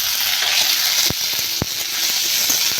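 Onion and tomatoes fry in hot mustard oil with a dense, continuous sizzle and hiss, broken by two sharp knocks of a utensil against the pan and no talking.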